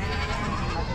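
An Osmanabadi goat at a busy livestock market bleats, a brief loud cry over dense crowd murmur and background noise.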